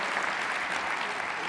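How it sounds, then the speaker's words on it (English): A keynote speech audience gives a dense, steady round of applause, many hands clapping together at an even level throughout. "Let's give Tony Little a round of applause on that one"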